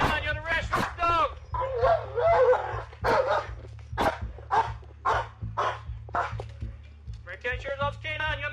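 A police K9 dog barks repeatedly during a sheriff's arrest at a house, the loud, close barks mixed with shouted commands and officers' voices over a steady low engine hum.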